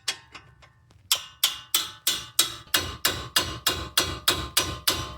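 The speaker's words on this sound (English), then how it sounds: "So I'm gonna use the hammer just to make sure it is well tightened." A hammer strikes a 17 mm wrench to tighten the front brake caliper bracket bolt on a 2024 Mazda CX-30. A few light taps come first, then about a dozen loud, sharp metallic blows in a steady rhythm, close up with no talk.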